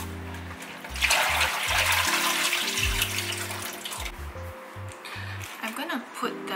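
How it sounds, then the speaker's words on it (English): Running water from a tap pours steadily over cabbage wedges in a colander, a continuous splashing rush that lasts the whole time, heard under a person speaking and with a low tonal hum underneath. "you can rinse the wedges in a colander under running water and then just shake them dry"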